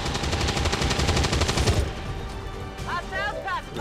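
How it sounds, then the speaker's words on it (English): Rapid automatic gunfire bursts loudly in the XCOM 2 strategy game for about two seconds, then stops, leaving ambient game noise and a brief electronic chirping effect. "Weapons burning ammo fast."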